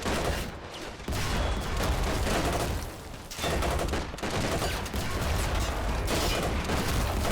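Heavy 25-pounder artillery barrages in a WWII North Africa video game rumble loud and dense, a near-continuous roll of booms and gunfire broken by a few short lulls.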